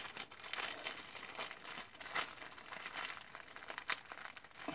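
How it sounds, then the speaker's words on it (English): Steady crinkling and rustling of a thin plastic gift bag, close by, with sharper crackles here and there and no talking. "I'm going to have to tear that poor little bag all up."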